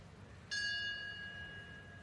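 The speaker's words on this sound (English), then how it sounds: "So the bell has gone" A single bell strikes once at a dressage competition arena, ringing with a clear sustained tone that slowly decays over a quiet background.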